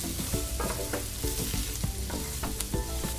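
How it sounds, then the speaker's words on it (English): Ground ginger and cumin toasting in a pan for a Moroccan seafood dish: a loud, close, steady sizzle broken by repeated scraping knocks as the spices are pushed around, with no voices. "And I'm just moving those around the pan. That's going to toast them up nicely."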